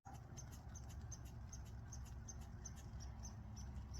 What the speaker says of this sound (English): I got a squirrel that's cursing me out right now